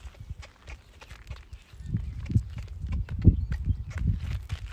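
Horse hooves clip-clopping on the ground during harness training, a few uneven steps that grow heavier and closer, with soft handling noise and no speech.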